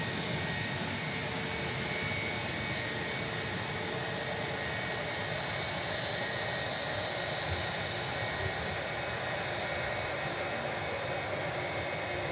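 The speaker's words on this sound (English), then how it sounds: "Egypt Air taxi's over." Egypt Air airliner taxiing with a steady, broad jet engine roar that holds continuously throughout, heard from a distance at a plane-spotting location without any break or change.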